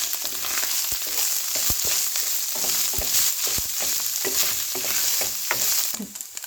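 Spices with paprika powder and oregano roast in a pan for nachos, giving a steady close sizzle broken by repeated scraping stirs of a spoon, with no talking.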